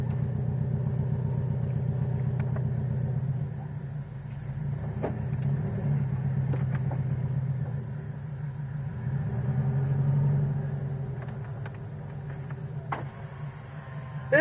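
A car engine idles steadily after being started, a constant low rumble holding for the whole stretch with slight swells, a few faint clicks and knocks over it, and no talk.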